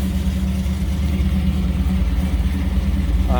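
A 1955 GMC 100 pickup street rod engine rumbles loudly up close from the exhaust, a deep steady idle with slight revving swells throughout.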